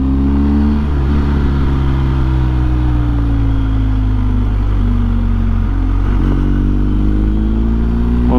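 Vehicle engine humming steadily as it climbs slowly through tight bends on Albania's mountain serpentine road number 23, with a low continuous drone and slight pitch shifts through the turns, close and fairly loud, with no talking.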